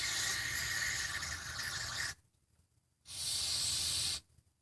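Brake cleaner sprays into the valve body of a VW 09G transmission in two close, loud hissing bursts, a longer one then a shorter one, separated by a brief silence.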